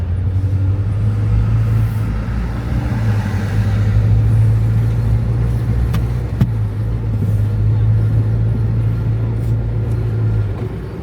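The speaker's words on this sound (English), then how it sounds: "we are taking a taxi to a place where we can get a car to Lusaka." A taxi car driving on a road in Zambia, heard from inside as a steady, loud engine and road rumble with faint background voices.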